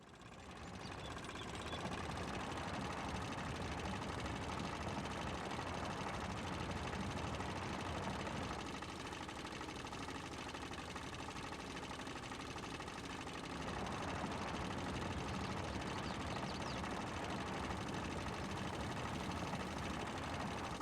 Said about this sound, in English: let's go and get this mini tractor